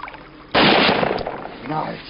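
A single loud gunshot cracks during a hunt in the Quebec woods, cutting in abruptly after a quiet start and fading into a rolling echo, with voices murmuring around it.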